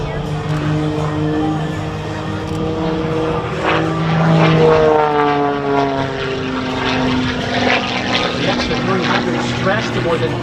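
An Extra 300S propeller aerobatic airplane performs maneuvers at the Lake Cumberland air show, its engine droning steadily with rising and falling pitch sweeps as it rolls and climbs, heard at moderate distance throughout.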